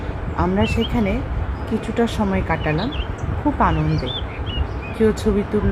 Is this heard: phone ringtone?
no